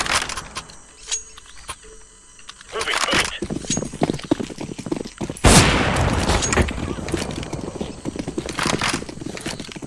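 Rifle gunfire in the video game CS GO, bursts of shots with sharp broadband cracks, heaviest in the second half, alongside other game noises and a voice speaking.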